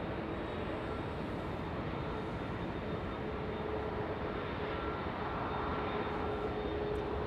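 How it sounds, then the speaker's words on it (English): An Air Canada Boeing 737 MAX 8 at Los Angeles International Airport gives a steady, broad jet engine roar with a faint whine, holding an even loudness throughout without any talk. "Now the aircraft, a MAX 8. A 737 MAX 8."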